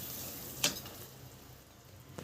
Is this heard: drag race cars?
no